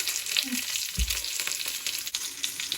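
Veal shanks for osso buco frying in hot oil in a pan, a steady broadband sizzle with a brief low thump near the middle, no voices.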